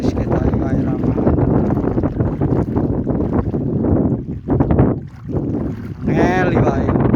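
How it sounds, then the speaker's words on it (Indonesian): Strong storm wind buffets the microphone at a reservoir during tilapia fishing, a loud continuous rumbling roar that dips briefly near the end, with people talking over it. "Angin terus."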